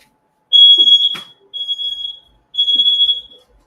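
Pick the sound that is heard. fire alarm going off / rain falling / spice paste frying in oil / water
fire alarm going off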